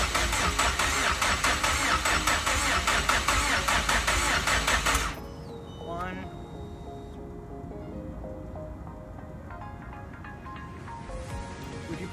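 Mazdaspeed 3 engine, freshly rebuilt, cranking over on the starter to prime the oil: a loud, steady, rapid mechanical whir for about five seconds, then it cuts off, leaving faint workshop ambience with some high tones.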